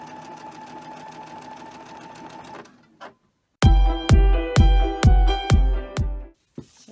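Sewing machine stitching fabric with a freshly changed bobbin: a steady whirring run that stops, a short pause, then six loud, close, rhythmic bursts of rapid needle clatter, each a second or less, ending with a single brief start.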